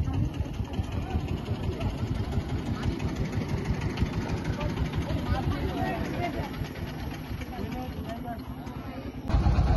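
A boat engine idling at Lalakhal in Sylhet, a steady low rumble running close and continuously, with a brief louder surge at the very end.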